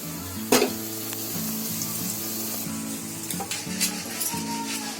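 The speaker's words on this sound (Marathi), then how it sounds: "लाल होईपर्यंत भाजून घ्यायचं" Aloo tikki potato patties shallow-fry on a pan over a low gas flame, giving a steady close sizzle broken by a few sharp metallic clinks and scrapes.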